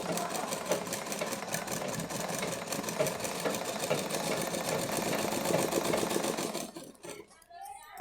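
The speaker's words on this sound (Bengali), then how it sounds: "নিয়ে এই কোণ দুটোকে এক জায়গায় রেখে সেলাই করে দেবো।" Sewing machine stitching folded fabric corners, a fast steady mechanical whir with rapid needle clatter running continuously before cutting out near the end.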